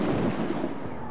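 A ship's cannon fires in the video game Assassin's Creed 4 Black Flag, giving a brief, dull, rumbling boom that is fairly quiet and muffled.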